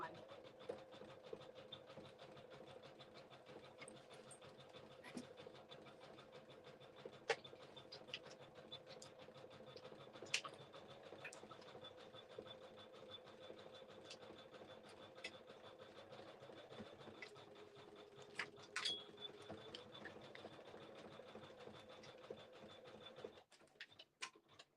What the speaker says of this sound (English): We're stitching down the finishing stitch